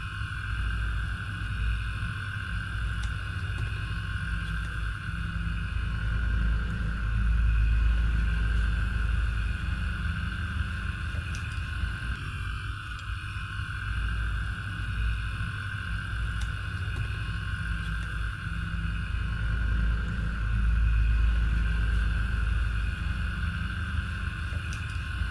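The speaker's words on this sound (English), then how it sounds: "The motors are spinning." Two coupled DC motors spin steadily, one driving the other as a generator with bulbs lit, producing a constant close, loud electric whine with a low rumbling hum and no talking.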